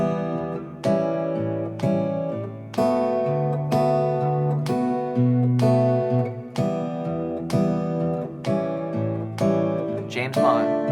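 Fingerstyle acoustic guitar plays bars 5 to 8 of a song: a steady sequence of plucked chords and bass notes, each ringing out clearly before the next, close and moderately loud.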